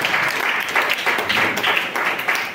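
Church congregation breaks into steady applause during a pastor's sermon, dense continuous clapping with slight rhythmic swells, close and fairly loud, with no voices over it.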